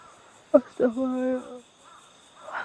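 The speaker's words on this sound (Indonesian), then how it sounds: "Ada suara burung gagak" A crow gives a couple of harsh caws, the second drawn out into a longer call, against a quiet background with a faint insect hum.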